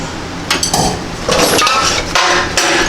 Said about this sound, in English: breaking those U-bolts loose